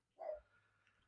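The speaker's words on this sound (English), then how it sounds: "my worry is that the dog's barking will show up in the background of the sound" A single dog bark sounds faint and distant in the background, a short burst followed by quiet room tone.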